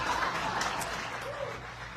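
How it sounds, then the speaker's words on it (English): An audience at a live event in Las Vegas applauds, a brief wash of crowd clapping that fades, with faint voices mixed in. "Give Eric and Marina a huge round of applause."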